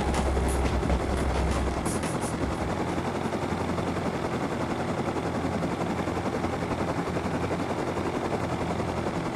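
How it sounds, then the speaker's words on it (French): Helicopter in the survival video game Rust, a loud, steady rotor drone running throughout with sharp clattering bursts near the start, no talk over it. "Mais attends, il y a un hélico là."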